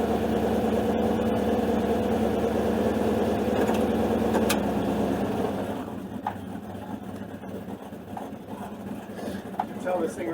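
A 1995 Ram truck with its factory torque converter runs steadily with a low engine drone, loud at first then settling quieter and idling, with someone talking over it.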